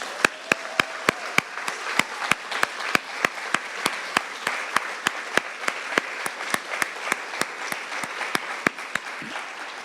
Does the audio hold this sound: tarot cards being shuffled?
no